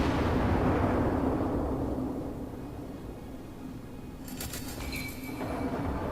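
Battleship gunfire in World of Warships from a Kawachi class battleship, hitting enemy gun turrets: a loud low boom rolls out and fades over several seconds, with faint high metallic clinks near the end.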